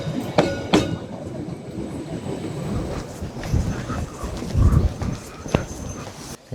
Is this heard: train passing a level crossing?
yes